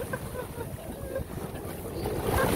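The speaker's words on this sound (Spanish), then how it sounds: "Está enojado el mar" Rough winter sea on the coast of Guatemala, a low churning wash of waves mixed with wind noise on the microphone, building slightly toward the end.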